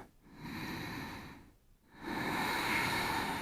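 Slow, deep breaths drawn in and out through the nose, a soft hissing rush in two long cycles with a brief pause between.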